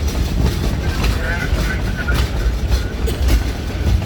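An 80-ton locomotive, originally standard gauge, runs on narrow gauge rails pulling old freight cars, a steady loud rumble and rattle with wind buffeting the microphone and no clear talk.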